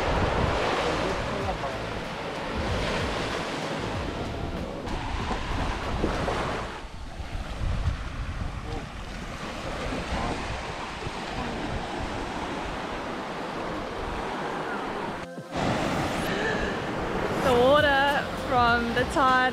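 Ocean waves and surf rolling onto a dry coastal beach near Cape Naturaliste, a continuous broad rush with wind buffeting the microphone and a brief break near the end.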